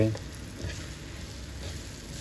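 Chopped green and red chilies fry in a pan for an aloo sandwich masala, giving a steady, close sizzle with stirring scrapes throughout.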